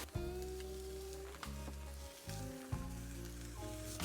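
Chorizo cooking in a pan for smoked chuck roast chili, a soft, fairly quiet sizzle with light crackling and a few low thuds, no talk.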